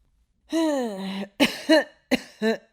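A voice acts out an old man's drawn-out, groaning cough followed by several short hacking coughs in quick succession, close and clear against silence.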